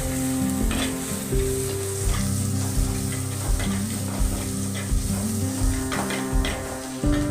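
Tomatoes and green chillies frying in a pan for fish curry, a steady loud sizzle throughout with intermittent stirring scrapes, close up, no talking.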